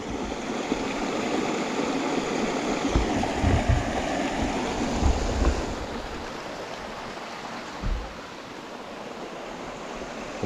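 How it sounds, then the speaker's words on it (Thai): A steady, heavy roar of rushing water from a strong waterfall, a continuous wash of noise that dips slightly toward the end. "เสียงเสียงน้ำตกค่อนข้างแรง"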